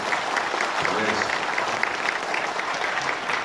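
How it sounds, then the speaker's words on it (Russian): A crowd at an international theological conference claps steadily throughout, dense continuous applause filling the room without pause. "Пожалуйста, аплодисменты от правительства Оренбургской области."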